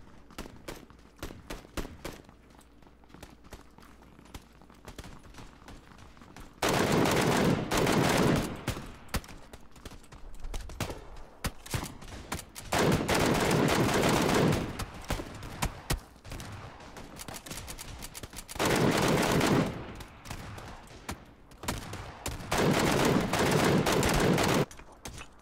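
Bursts of automatic gunfire from a newly picked-up weapon in PUBG (PlayerUnknown's Battlegrounds), loud sustained volleys of several seconds each repeating about four times, separated by quieter gaps of game ambience.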